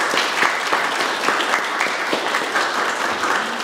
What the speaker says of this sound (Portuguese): hoje, também eu queria pedir para vocês uma salva de palmas para a Fabiana